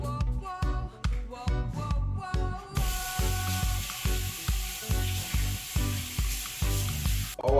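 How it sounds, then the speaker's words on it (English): KFC-style breaded chicken fries in hot oil with a steady, bright sizzle and hiss, broken by soft repeated clinks and taps of a utensil stirring. Close and fairly quiet, with no talking. "it's time for us to start the frying of our KFC chicken"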